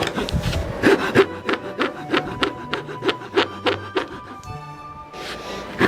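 A handsaw cuts wooden crown molding in a steady back-and-forth rhythm of rasping strokes, loud and close, with a brief pause near the end.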